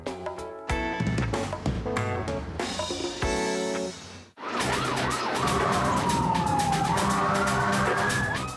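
A loud Boston fire engine siren wails with a rising and falling tone, close by, following a stretch of music that cuts out abruptly.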